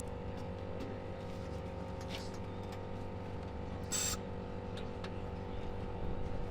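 A 1967 Datsun 1600 roadster with a turbo engine runs loud and steady, a low idling rumble with strong harmonic layers throughout, plus a brief hiss partway through.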